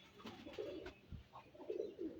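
A Pakistani high-flyer pigeon, one of a nesting pair sitting on eggs, coos softly at close range in several low, rolling phrases, with no voices.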